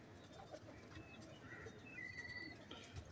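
Pigeons of a single bloodline kept on a rooftop, soft low cooing faintly audible among light chirps and background hiss, no clear talk.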